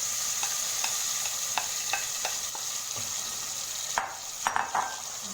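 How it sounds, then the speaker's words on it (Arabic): Loud, steady sizzle of tomatoes added to garlic frying golden in a pan, broken by scrapes and clinks of a spoon stirring, the clatter thickening near the end. "هو كده الثوم اصفر، هنزل عليه بالطماطم."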